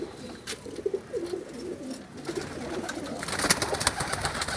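Paired pigeons, including Sialkoti and golden breeds, coo in low throaty bursts close by on a rooftop loft, with wing flutters and rustling that grow busier toward the end.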